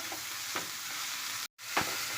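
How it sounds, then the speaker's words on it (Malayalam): A spatula scrapes and stirs through pumpkin leaves frying in a pan, a few distinct strokes over a soft constant sizzle. "നന്നായിട്ട് ഇളക്കി കൊടുക്കുക എല്ലാം കൂടെ യോജിപ്പിച്ച് കൊടുക്കുക"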